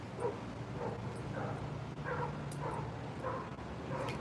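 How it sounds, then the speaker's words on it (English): A dog gives a run of small, muffled yips and woofs, about seven in a loose rhythm, faint and somewhat distant over a constant low hum. "She will bark if somebody knocks on the door"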